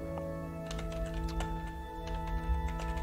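Quick, irregular clicks of a computer keyboard being typed on, close and fairly clear over a faint constant electronic hum, with bursts of keystrokes spread across the whole stretch.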